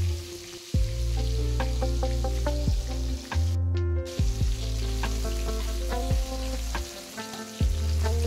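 Koi fish fry in oil in a wok with a loud, steady sizzle and crackle, punctuated by the clinks and scrapes of a utensil stirring or turning the fish.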